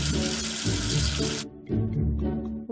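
Running water from a tap rinsing soap away, a strong continuous splashing stream that briefly cuts off and then resumes.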